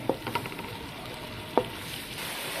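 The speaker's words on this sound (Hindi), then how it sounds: "प्याज को आपने लो फ्लेम पे आपने कुक करना है, फ्राई करना है इसको ब्राउन होने तक" Onion paste fries in a pan over a low flame, a steady gentle sizzle with two sharp clicks of a utensil against the pan.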